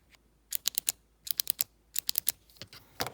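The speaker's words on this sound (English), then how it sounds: "The click feels slightly different as a result of all these metal parts. Here's the metal click." Metal push button on a Sharpie S-Gel metal barrel gel pen clicked repeatedly, a series of about five close, crisp paired clicks with short pauses between them.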